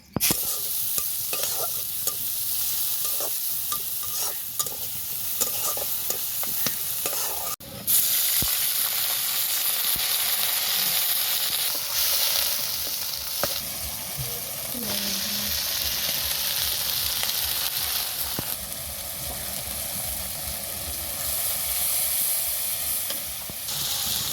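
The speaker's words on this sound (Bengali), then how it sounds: "এখন পেঁয়াজটা ভাজা নেবো" Onions fry with a constant loud sizzle and hiss, broken by occasional scraping and stirring in the pan while cooking koi fish bhuna.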